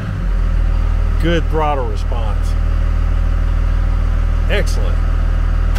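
A second-generation Dodge Cummins diesel truck engine idles steadily with a deep, even rumble close by, while someone speaks briefly over it.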